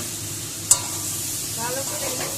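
Turmeric and salt being stirred into food in a hot pan, a soft continuous sizzle with one sharp utensil tap and light scraping strokes.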